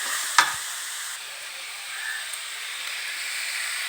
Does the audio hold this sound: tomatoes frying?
yes